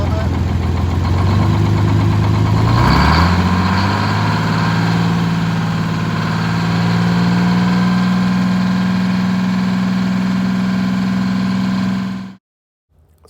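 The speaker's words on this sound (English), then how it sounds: "Rev it up a little bit." An International cabover truck engine rises from idle to a steadier, higher rev and holds it loudly up close, then cuts off abruptly near the end.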